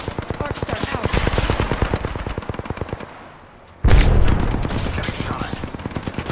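Rapid automatic gunfire in a shooter video game rattles off in loud, close bursts, then stops for a short lull before a heavy blast and more sustained firing.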